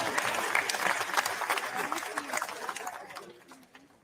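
An audience at the official opening ceremony of Expo Jamaica 2023 bursts into applause, steady clapping with crowd noise that gradually fades out, heard at a moderate distance.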